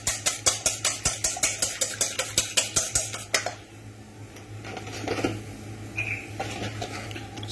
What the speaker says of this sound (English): Okay, then I beat that up.